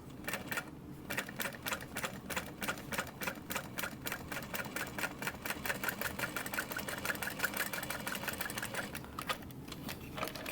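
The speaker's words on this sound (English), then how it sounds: "I'm just going to sew right down the middle of that line" A sewing machine runs steadily, stitching the card slots of a clutch wallet with a fast, even mechanical chatter that continues almost without pause and stays close and clear.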